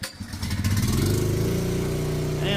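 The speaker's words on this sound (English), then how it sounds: "We got our generator on." Portable generator powering a house through a drop cord starts up and settles into a loud, steady close engine drone with a buzzing hum, no talking.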